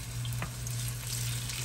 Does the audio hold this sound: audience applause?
no